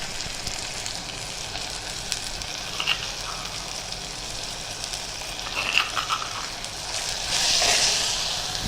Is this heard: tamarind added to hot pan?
yes